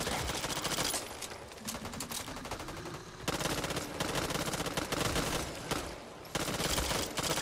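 Rapid automatic gunfire in a shooter video game: dense bursts of shots in long volleys with brief gaps between them, loud and continuous, with no talking.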